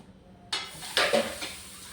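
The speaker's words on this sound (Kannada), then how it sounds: "ಹಾಗೆ ಸ್ವಲ್ಪ ಪಾತ್ರೆ ಜಾಸ್ತಿನೇ ಇದೆ ನೋಡಿ ಬೇಗ ಬೇಗ ತೊಳೆದು" A pile of kitchen dishes being washed: after a brief quiet start, close clattering of pots and utensils with a couple of sharp metallic clinks and splashy rinsing, short and busy, with no talk.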